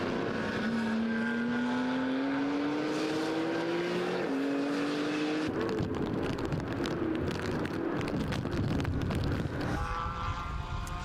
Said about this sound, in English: Listen to them as they put the power down out of this corner.